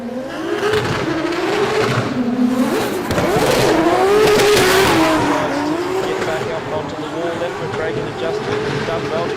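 A D1NZ drift car launches at full throttle at Baypark Stadium in Tauranga, its engine revving hard and loud with rising and falling pitch, tyres squealing underneath, while a commentator talks over it throughout.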